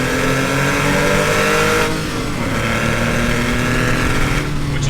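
A Porsche 996 911 flat-six engine revs loudly up close, holding a harsh, raspy howl, dipping briefly, then climbing again in a sustained, rising roar.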